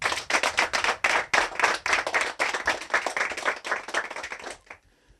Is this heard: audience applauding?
yes